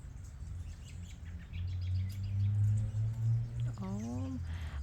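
Birds, including a robin, chirp outdoors in a few short, clear tweets and a rising call near the end, over a steady low hum of background noise.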